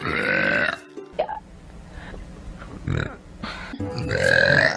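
A woman streaming produces a loud, close burp at the start and another deep, grunting belch at the end, with rougher throaty sounds between them.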